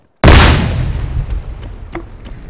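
A single loud explosion goes off during a capture-the-flag military shooter match. The blast hits suddenly and close, then fades in a long rumbling decay, with no talk over it.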